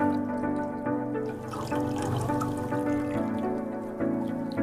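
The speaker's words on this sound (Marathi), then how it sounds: "आपण हे थोडस थंड पाणी टाकून धुवून घेत आहोत" Cold water poured over freshly made paneer to rinse it, giving a steady close trickle and splash that runs throughout, with sustained musical tones underneath.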